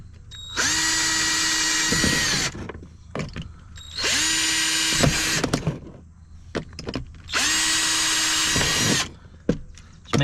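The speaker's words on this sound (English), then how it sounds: "We're just going to go ahead and drill our pilot holes" A power drill whirs in three bursts of about two seconds each, drilling pilot holes in a kayak hull, spinning up and down with brief clicks and handling noises between them.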